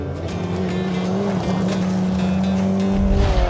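A Mitsubishi Evo 8 rally car with four-wheel drive and its restrictor removed races up a gravel hillclimb, with a loud, steady engine drone that shifts pitch and tires scrabbling across loose gravel, heard close and continuous.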